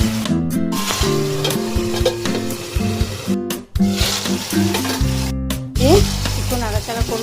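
Two dried chillies, cloves, cardamom, cinnamon and whole cumin sizzle in hot oil, a loud close crackle broken by brief pauses and a few stirring scrapes, with no voice.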